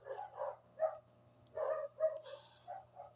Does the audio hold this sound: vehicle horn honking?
no